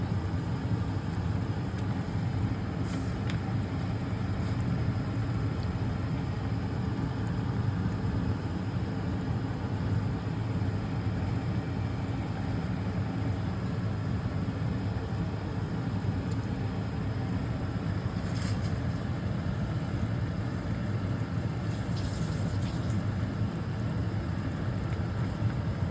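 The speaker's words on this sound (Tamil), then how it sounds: "இது இந்த ஓரத்துங்களெல்லாம் கொதி வருது பாருங்கள்" Anchovy fish curry simmers in a pot, a steady low bubbling rumble with faint crackles, continuous and close.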